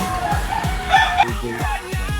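A chicken clucks and crows in a quick series of sharp, repeated calls, fairly close and loud, with no talking.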